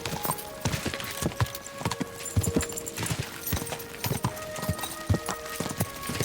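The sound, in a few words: horse hooves galloping, from video game Kingdom Come: Deliverance II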